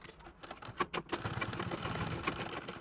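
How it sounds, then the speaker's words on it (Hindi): A sewing machine stitches a straight seam on sari fabric, starting with a few stuttering needle strokes and then running into a steady, fast mechanical whir, close and moderately quiet. "अब यहाँ से हमें सीधी सिलाई लगा लेनी है।"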